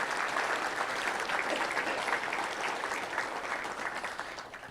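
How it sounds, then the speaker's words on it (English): Sustained audience applause at a touchdown club luncheon, steady and fairly loud, as the crowd claps for event sponsors, with no talk over it. "Let's give them a big round of applause."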